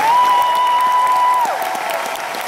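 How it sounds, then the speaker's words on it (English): A crowd at an anime convention closing ceremony applauding loudly and steadily, a dense wash of clapping with a sustained tone running under it for the first moments. "give one more round of applause for Erica Lindbeck and Melanie."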